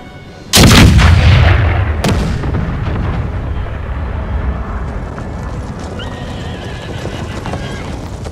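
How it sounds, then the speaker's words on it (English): Artillery fires in the video game Total War: Empire, two loud booming cannon blasts a second or so apart followed by a long rolling rumble, with horses neighing and hooves clip-clopping in the battle din. "Looks like artillery is firing."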